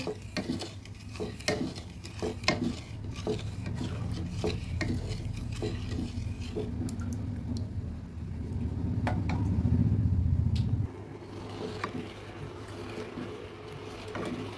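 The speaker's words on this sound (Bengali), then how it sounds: "এবার নেড়ে নেড়ে চিনি আর রসটা গুলিয়ে নেব।" A spoon steadily stirs sugar into guava juice in a pot, soft repeated scrapes and light clinks against the pot, with a low rushing simmer building toward the end, quiet and without voices.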